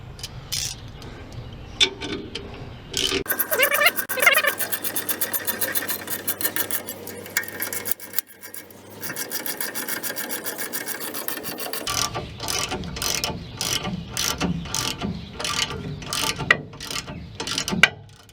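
A stuck brake rotor being forced off a car hub, grinding and rasping mechanically with several sharp pops and knocks as it breaks loose, close and fairly loud, with no talking.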